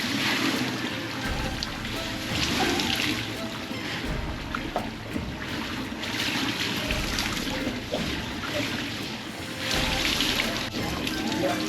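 Water flows steadily into a heated herbal sauna in Vientiane, a continuous rushing wash that swells and eases in waves, heard close and alone, with no voices.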